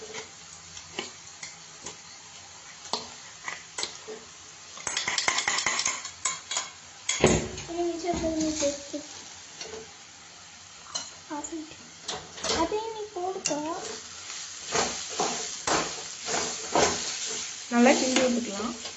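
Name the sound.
stirring food frying in a pan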